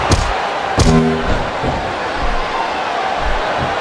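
A wrestling arena crowd in WWE Smackdown vs RAW 2007 gives a continuous loud roar and murmur, broken near the start by a couple of sharp slams or thuds from the ring.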